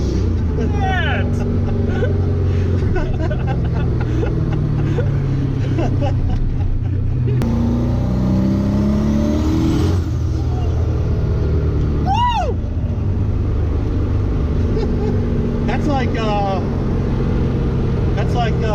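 A Mercedes AMG engine revs at part throttle during a burnout, a loud, steady roar with rising pitch swells and a broad rumble, with people talking over it throughout.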